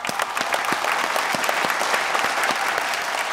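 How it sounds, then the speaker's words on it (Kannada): A studio audience on a game show applauds loudly and without a break, a dense, even burst of clapping that fills the whole stretch. "ಜೋರಕ್ಕೆ ಚಪ್ಪಾಳೆ"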